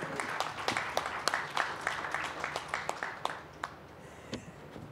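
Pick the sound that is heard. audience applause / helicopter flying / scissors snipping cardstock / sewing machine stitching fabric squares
audience applause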